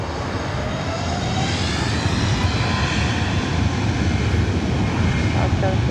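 A Southwest Airlines Boeing 737 MAX 8 arriving from Las Vegas into LAX, heard as a steady, loud broadband jet roar with wind rumble that stays fairly constant throughout.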